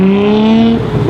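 A Nissan Skyline R33 pulls out at Ocean Beach, San Francisco, its engine revving up in a loud, close, rising note that briefly dips and climbs again.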